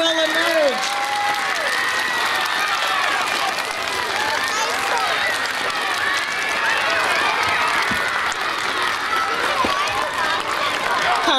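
Applause from a school assembly crowd, a dense steady wash of clapping filling the hall for the whole stretch, with cheering and scattered voices mixed in.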